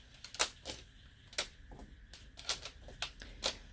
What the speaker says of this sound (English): so we're just going to put these pencils away.